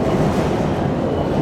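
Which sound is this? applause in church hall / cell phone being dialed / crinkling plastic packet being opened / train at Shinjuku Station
train at Shinjuku Station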